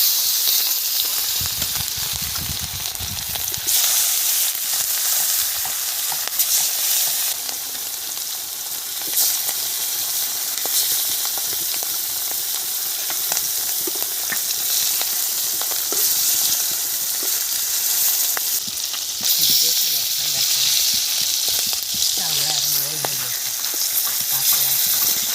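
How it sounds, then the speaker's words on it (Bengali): Large chela river fish fry in hot oil in a village-style pan, producing a loud, continuous crackling sizzle with occasional scraping and stirring noises that rise and fall over the whole stretch. "কড়া গরম হয়ে গেছে, তেল দিয়ে দিলাম। মাছগুলো ভেজে নেব।"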